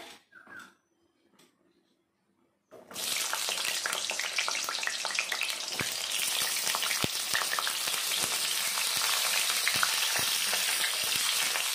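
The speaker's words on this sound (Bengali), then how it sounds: "তেলটা গরম হয়ে গেছে, এখন পটলগুলো দিয়ে দেব" Slit pointed gourds (potol) drop into hot oil after a few faint knocks and a near-silent pause, bursting into a loud, continuous sizzle with crackling pops that stays strong to the end.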